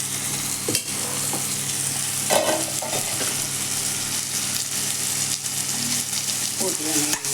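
Spices sautéing in a pan for a Tamil kara kuzhambu give off a steady, close sizzle and crackle, with occasional scrapes and clinks of a stirring utensil throughout.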